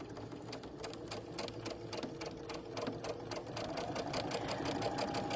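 Steady, rhythmic whirring of a sewing machine running continuously at close range, growing slightly louder toward the end, with no talking.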